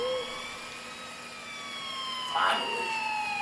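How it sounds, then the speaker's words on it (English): Sirens wail faintly in the distance with long, slowly falling tones over a low background hum, and a brief rustle near the end. "I finally heard sirens in the distance"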